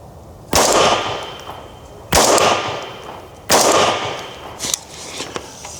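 Three loud, sharp AR-15 rifle shots at an outdoor range, spaced about a second and a half apart, each with a short decaying tail, followed by a few fainter clicks and small knocks.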